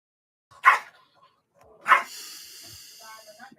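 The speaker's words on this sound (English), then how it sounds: "Don't mind my dogs in the background;" Two sharp dog barks ring out a little over a second apart in a quiet room, each followed by a short fading tail.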